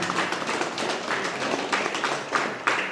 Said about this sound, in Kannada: ಗಟ್ಟಿಯಾಗಿ ಚಪ್ಪಾಳೆ ಹೊಡೆಯೋಣ